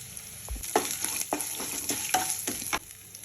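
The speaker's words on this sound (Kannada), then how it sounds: "ಸ್ವಲ್ಪ ಆದಮೇಲೆ ಹಸಿಮೆಣಸಿನ್ಕಾಯಿ ಹಾಕ್ತಾ ಇದ್ದೀನಿ. ಕರಿಬೇವು ಹಾಕ್ತಾ ಇದ್ದೀನಿ." Urad dal, chana dal, green chillies and curry leaves sizzle and crackle in hot oil for a Kannada-style bottle gourd stir-fry, with steady frying hiss broken by short bursts and stirring scrapes close by.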